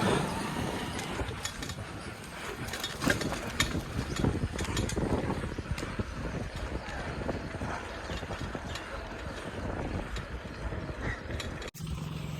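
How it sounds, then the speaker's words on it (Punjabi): An irrigation water-pump motor running beside fields in rural Punjab, passed on a bicycle, comes through as a steady mechanical drone blended with rushing wind noise for the whole stretch, with a brief knock near the end. "ਮੋਟਰ ਚੱਲ ਰਹੀ ਆ"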